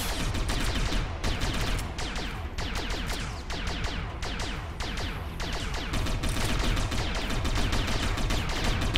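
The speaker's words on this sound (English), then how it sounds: "Stop shooting the fucking container, please." Sustained automatic gunfire hammering a container in the Satellite Reign game, dense rapid bursts of shots overlapping in near-continuous volleys, loud and close, with no talking.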